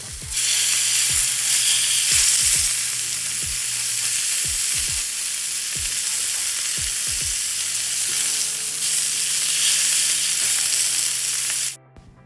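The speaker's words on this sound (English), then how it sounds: "So this fat cap here on the side, I'm gonna brown that before I turn these over." Pork chops fry in a pan with the fat cap browning, a loud, continuous close sizzle broken by a few scraping and tapping knocks of a utensil, stopping abruptly at the end.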